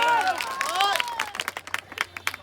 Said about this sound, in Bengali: তার জন্য বড় তালি।